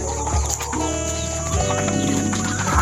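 Ducks calling on a farm in a rural island province, with repeated harmonic quacks and squawks from several birds over a steady outdoor background.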